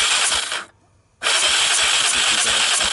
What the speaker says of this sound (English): See the way it's kicking out?